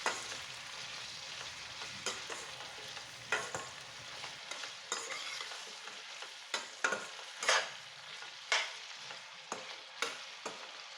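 Chopped onions, garlic and tomatoes sautéing in a pan for Chettinad kuzhambu, a steady soft sizzle punctuated by irregular scraping stirs of a spoon against the pan, close and alone.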